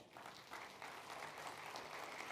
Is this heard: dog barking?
no